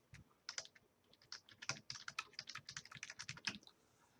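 Rapid typing on a computer keyboard while a course title is entered into a lecture slide template, a dense run of light, close clicks and taps with short pauses between them and no talking.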